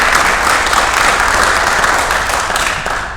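Loud, sustained applause from an audience at an anniversary panel showcase, many hands clapping in a thick, even wash that fades slightly near the end.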